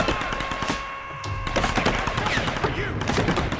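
Rapid enemy gunfire in Tomb Raider (2013), a dense stream of sharp shots and impacts with a brief lull near the middle before it resumes, loud and close against game ambience.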